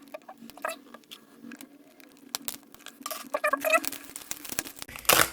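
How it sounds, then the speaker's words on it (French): One Piece card booster pack from the OP14-EB04 set being torn open and unwrapped, with faint crinkling, small rustles and tearing that build toward a louder crumple at the end, recorded close and fairly quiet. "on est parti tout de suite pour se déballer cette toute nouvelle extension."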